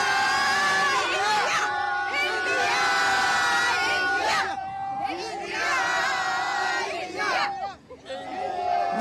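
A large crowd of Indian cricket fans cheers and shouts continuously after India's T20 World Cup final win over South Africa, with surging whoops and chanting voices rising and falling throughout.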